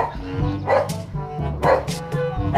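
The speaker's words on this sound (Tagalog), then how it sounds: "ang ingay ng aso nila" A dog barks and yips repeatedly in short bursts close by, mixed with people talking at an outdoor bike stop.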